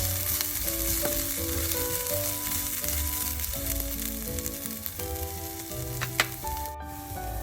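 Onions fry in oil for a tin fish curry, a dense continuous sizzle up close with occasional stirring clinks and a sharp tap near the end.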